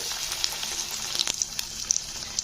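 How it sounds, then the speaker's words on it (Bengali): A stuffed flat bean (sheem) fritter frying in hot oil, with a continuous close sizzle broken by small pops and crackles, and no voices. "চলো আর একটা ভেজে আমি দেখিয়ে দিচ্ছি তোমাদের"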